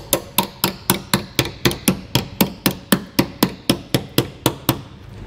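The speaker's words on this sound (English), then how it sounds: "Now if you have a hammer, you can simply hammer that in." A hammer strikes a metal tab flush while a Curt trailer hitch is fitted to a 2012 Subaru Outback, about eighteen sharp, evenly spaced blows, close and loud with nothing else heard.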